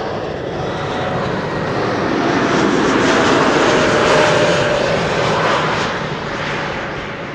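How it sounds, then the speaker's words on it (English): A JetBlue airliner arriving from Boston, its jet engines giving a loud, steady broadband roar that swells and holds through the middle, then eases slightly, with no talking. "JetBlue Flight 631 having arrived from Boston, Massachusetts."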